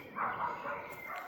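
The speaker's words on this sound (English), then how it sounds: "Dogs barking at each other." Dogs barking at each other in a garden, a brief burst of yips and barks at moderate distance, with bird sounds faintly in the background.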